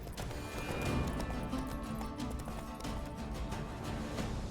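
Rhythmic hoofbeats of a galloping horse in the video game The Witcher 3: Blood and Wine thud continuously, with a brief snort or whinny and some rustling background noise.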